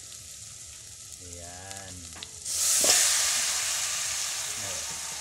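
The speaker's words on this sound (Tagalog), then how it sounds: "nagisa na po ng bawang, sibuyas at luya." A short voice is followed by a sudden loud, steady sizzle as garlic, onion and ginger hit a hot pan and keep sautéing up close.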